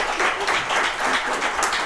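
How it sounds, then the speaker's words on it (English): An audience gives a warm round of applause for a group of ladies after their performance at a live show, with continuous clapping at moderate loudness. "give these ladies another good round of applause"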